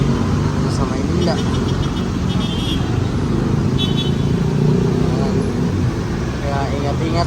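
Dense road traffic in Manila, Philippines, makes a loud, constant roar of car and motorbike engines and tyres, with a faint horn now and then, while a person talks over it.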